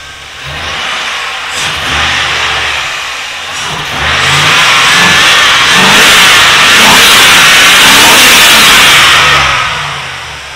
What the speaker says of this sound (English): Drive by wire, so we can give her the old loud pedal right here.